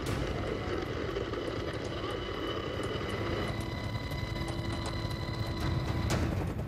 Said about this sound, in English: Justin and Dwayne's helicopters are en route to the NATO hospital with 6 critically wounded Afghan civilians.